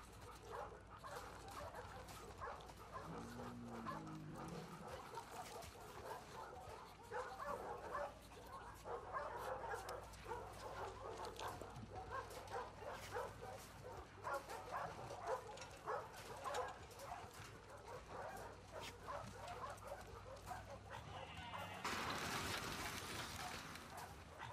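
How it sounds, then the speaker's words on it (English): In The Last of Us Part II, a dog barks, yips and whimpers in repeated excited bursts over a soft, steady game background. "Crazy dog."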